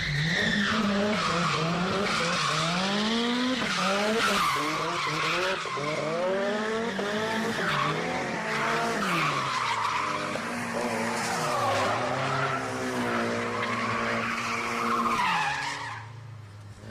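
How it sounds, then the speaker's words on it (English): Several cars team drifting in a line on a touge mountain road, their tires squealing loudly in long, overlapping, pitch-sweeping skids that keep going almost without a break until the end. "Soon the cars are ready for some team drifting."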